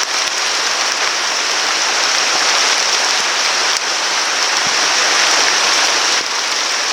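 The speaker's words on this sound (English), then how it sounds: "The water running down there." Water pours down a slope in a lush Hawaiian setting, making a loud, steady, close rushing hiss like a small stream or cascade that holds unbroken for the whole stretch.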